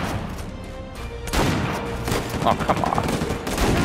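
Gunfire in Uncharted 4 crackles in bursts of sharp shots and heavier booms, close and loud over a busy combat backdrop, with a player briefly speaking over it.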